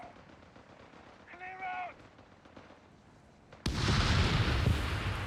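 Rifle and machine-gun fire in the strategy game Company of Heroes 3 erupts suddenly after a quieter stretch with a brief voice, becoming a sustained loud crackling volley of gunfire.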